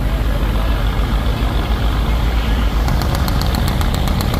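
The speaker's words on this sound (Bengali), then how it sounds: "তো লঞ্চের ইঞ্জিনকে সামনে চালিয়ে রাখা হয়েছে কিন্তু লঞ্চ" Heavy diesel engine of a river passenger launch run at high speed while the vessel is stuck on a sandbar, giving a loud, steady low rumble with turbo whine and exhaust roar throughout and a faint rhythmic ticking near the end.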